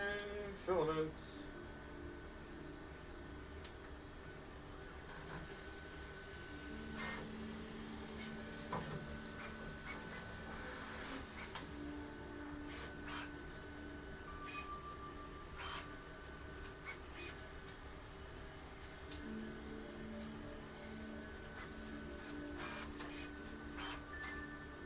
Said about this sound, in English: We are heating the nozzle to load some filaments.